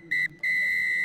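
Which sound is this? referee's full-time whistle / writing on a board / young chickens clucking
referee's full-time whistle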